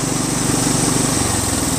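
A John Deere STX30 riding lawn tractor engine runs at full throttle close by, a steady loud buzzing drone whose pitch shifts partway through, with no speech.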